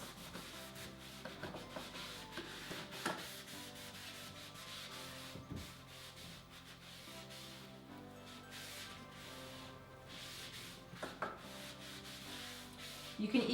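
A cloth rubs clear and dark Annie Sloan soft wax onto painted furniture, giving soft, close scuffing strokes in an uneven rhythm with occasional light knocks, quiet and without talking.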